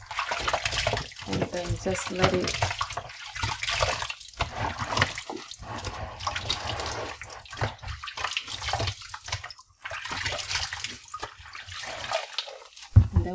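Tap water runs while kitchen wall tiles are rinsed during cleaning, a steady splashing flow with brief pauses and changes in texture, heard close up under a woman's occasional speech.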